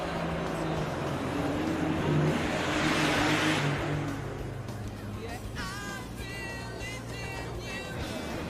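A car driving along the road with a steady engine drone and some rising acceleration, heard from inside the moving car, with a brief higher-pitched sound near the end.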